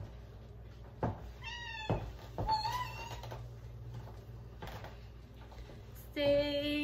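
A house cat gives several short meows, some close and clear, spaced between soft knocks and handling noises, ending with a louder drawn-out meow.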